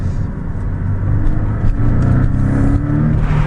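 The four-cylinder engine of a Porsche 718 Boxster S revs up loudly and close, a rising, growling rumble that holds and swells again over a few seconds, with no talk.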